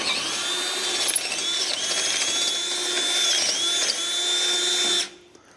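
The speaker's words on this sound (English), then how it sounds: "I'm going to drill this hole out a little bit." A power drill whines steadily for about five seconds while boring out a hole on an old winch, its pitch dipping briefly under load, then stops abruptly.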